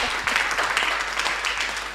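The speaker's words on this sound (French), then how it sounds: "On applaudit très très fort." Enthusiastic studio applause on a sports radio show, a steady dense patter of many hands clapping close by, sustained without pause.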